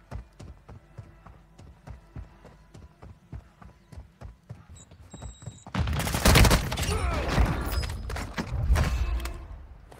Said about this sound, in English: There's some shots down there.